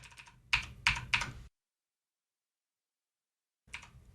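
Close, sharp computer keyboard and mouse clicks come as a few quick taps while objects are shift-clicked, followed by a stretch of silence and then one more click, with no voices.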